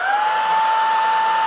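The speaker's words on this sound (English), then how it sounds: "I'm just going to use the hairdryer very high up" A hairdryer held high above a watercolor painting of a birch forest, drying a small wet patch of dark brown paint; a steady, close whirring blow with a constant whine, holding level throughout.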